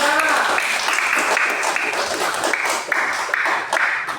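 Clapping from a primary school class during a lesson: continuous and fairly loud, with voices mixed in throughout.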